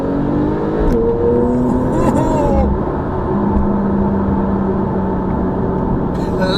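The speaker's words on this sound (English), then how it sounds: "I've just put the car in Sport Plus, and I'm going to put it in manual." A red Porsche in Sport Plus with manual shifting accelerates hard, its engine note steady and loud throughout, with faint background chatter from nearby people.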